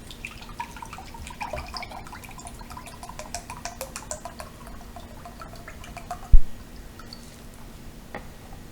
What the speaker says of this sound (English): pour it in my favorite cup,